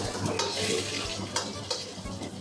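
Onion hitting a hot pan of oil while cooking, sizzling steadily as a spoon stirs it, with occasional scrapes and clinks of utensil on the pan, close and fairly loud.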